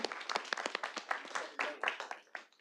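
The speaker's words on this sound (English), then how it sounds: "Let's give her a round of applause" Applause for the vice mayor at a board of directors meeting, a small group clapping with distinct individual claps and a thin, close, uneven texture, brief, with no one speaking.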